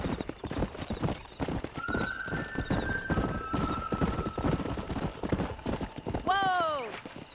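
Horses gallop in Red Dead Redemption, a quick, steady clip-clop of hooves under a voice, ending in one loud, drawn-out neigh near the close.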